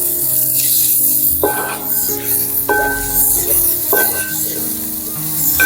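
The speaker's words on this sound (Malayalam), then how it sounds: "നമുക്ക് എണ്ണയിലേക്ക് നമ്മൾ അരിഞ്ഞു വെച്ചിരിക്കുന്ന സവോള നമുക്ക് ചേർത്ത് കൊടുക്കാം" Sliced onions hit hot oil in a pan for Kottayam-style beef perattu and sizzle loudly and continuously close by, with occasional stirring scrapes over the hiss.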